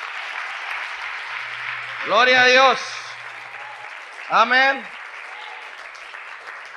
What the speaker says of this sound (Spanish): Un aplauso al Señor, hermano.